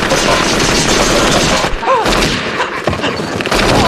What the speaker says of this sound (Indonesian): Bedanya, sekarang pakai petasan biar kedengerannya real.